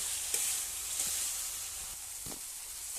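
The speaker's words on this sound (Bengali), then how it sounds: "এই আমার আলুটাকে কষানো হয়ে গেছে" Potatoes fry in spiced oil with a soft, continuous sizzle and hiss, broken by a few faint stirring scrapes; quiet and close, with no speech.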